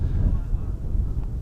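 Heavy wind buffeting the microphone at a hilltop stone circle in Lancashire, a constant low rumbling roar that fills the whole clip with no speech.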